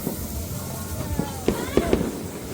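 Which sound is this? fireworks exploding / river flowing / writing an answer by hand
fireworks exploding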